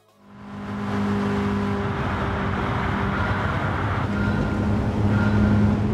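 A car engine in Gran Turismo 7 starts up and settles into a steady, droning run with a low humming tone, rising slightly in pitch and loudness toward the end, close and continuous with no voices.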